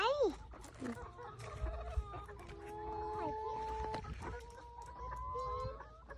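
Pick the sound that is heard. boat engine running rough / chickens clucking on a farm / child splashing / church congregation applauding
chickens clucking on a farm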